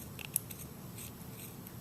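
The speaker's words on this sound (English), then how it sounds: "I just cut the excess off, making it nice and even." A few quick, soft snips of dull scissors cutting yarn, close up, in a quiet room with no voices.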